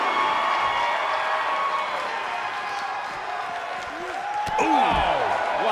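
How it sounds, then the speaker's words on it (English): A punch lands in a lucha-style wrestling match between two teams of wrestlers, a sharp impact ringing out over a constant roar of a capacity crowd, with a commentator talking throughout. "Ooh, what a punch"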